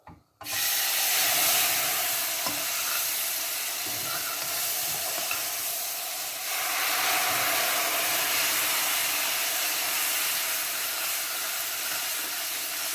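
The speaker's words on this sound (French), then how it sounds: "une fois que je vois que ma semoule elle a changé de couleur, je vais mettre mon eau" Hot toasted semolina for a cardamom semolina halwa sizzles loudly as water is poured in, a steady close steamy hiss while it is stirred, with no talking.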